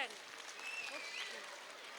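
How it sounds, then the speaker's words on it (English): Applause from the audience for first standard students at a school abacus showcase, quiet and distant, steady clapping over about two seconds with a faint voice or whistle-like tone. "Give a big round of applause for the first standard students."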